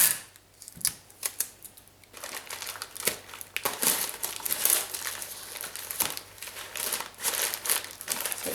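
Paper and tape crinkle and crackle while strips are pressed down onto a paper mache head, with irregular rustles, sharp tearing snaps and crumpling bursts close by throughout, no talking.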